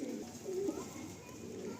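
Madrasi pigeons coo softly and low, a short murmuring phrase close by over a steady background hum.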